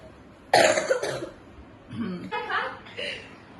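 One sharp, loud cough, then quieter throat sounds and a soft chuckle close by.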